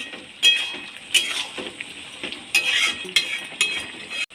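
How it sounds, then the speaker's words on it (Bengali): A utensil stirs soybean and potato curry with garam masala in a pan, scraping and clinking against the metal in short irregular bursts with a faint sizzle underneath. "এবার অল্প পরিমাণে সানরাইজ গরম মশলা দিয়ে দেব। হালকা নেড়ে নেব।"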